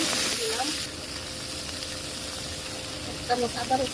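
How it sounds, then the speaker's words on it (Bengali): Water poured into a hot pan of frying fish and spice paste with green chilli, ginger and salt bursts into a loud sizzle, then settles to a softer steady hiss with faint bubbling. "মাছটা ভাজা হয়ে গেছে তখন একটু পানি দিব মশলা কষানোর জন্য"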